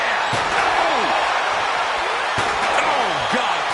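Sharp metallic slams of a steel chair striking a wrestler in the WWE 2K25 wrestling game, a few loud impacts ringing out over a constant roar of crowd noise and commentary.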